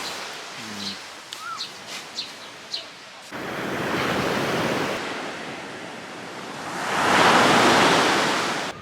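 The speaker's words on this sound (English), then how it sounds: "Made it to the beach." Waves wash onto a beach near the grandmother and grandfather rocks on Koh Samui, Thailand, a steady broad surf roar that swells louder toward the end, with a few faint bird chirps early on.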